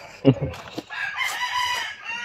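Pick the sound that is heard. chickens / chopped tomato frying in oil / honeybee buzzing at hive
chickens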